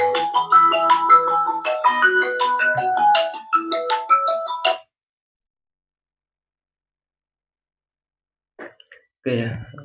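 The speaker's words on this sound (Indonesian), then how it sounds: "ini ada suatu telepon yang masuk" An incoming phone call's melodic ringtone, loud and close, playing a stepping sequence of bright tones for about five seconds before cutting to silence, followed by a couple of brief faint sounds near the end.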